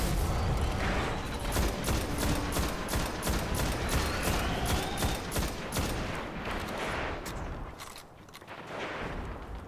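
Rapid, continuous gunfire from the video game Destiny, loud and dense, with sustained automatic bursts that ease off briefly near the end.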